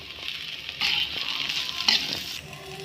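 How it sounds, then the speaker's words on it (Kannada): Sliced okra (bendekai) hits a hot pan for a Karnataka-style sabji and starts to sizzle, a steady close frying hiss with two louder surges as more pieces drop in and are stirred; no one speaks. "ಬೆಂಡೆಕಾಯಿ ಹಾಕ್ಕೊತಾ ಇದ್ದೀನಿ."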